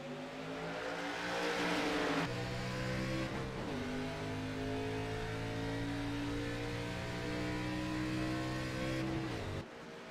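Race cars from an ARCA Series video game event at Charlotte roar off the green flag start, layered engines climbing in pitch through gear changes, loud and continuous with no talk.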